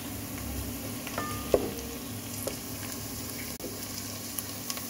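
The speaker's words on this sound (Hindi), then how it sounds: "ये प्याज जो है मीडियम साइज़ की, छोटी दो प्याज़ें थी जो मैंने ऑयल में डाल के इनको सौते कर लिया" Two medium onions sauté in oil for a spiced dal, giving a steady soft sizzle throughout with a few faint clinks and stirring touches.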